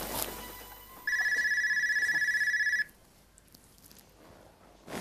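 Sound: telephone ringing

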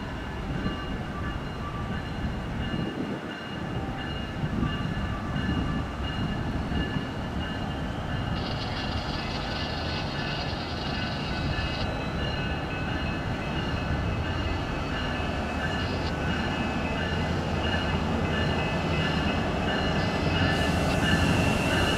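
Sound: train passing

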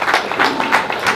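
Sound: applause

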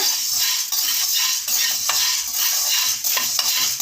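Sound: black pepper being dry roasted and stirred on low heat

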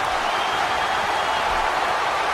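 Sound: crowd applauding in WWE 13 video game

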